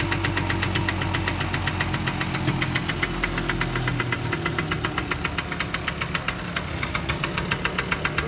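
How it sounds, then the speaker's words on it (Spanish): A 1978 Yamaha LB50 Chappy moped's small single-cylinder engine runs close by, a rapid, even putter of firing pulses with a slight rise and fall in revs, alone without talk. "La motito funcionando. Del año 78 es esta moto."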